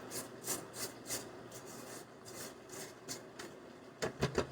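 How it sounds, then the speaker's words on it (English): A spatula scrapes the side of a mixing bowl of apple fritter streusel cake batter, giving a run of soft rhythmic rasping strokes up close, ending in a few quicker, louder scrapes. "I'm going to scrape down the side of this bowl too to make sure everything is getting mixed on up in here."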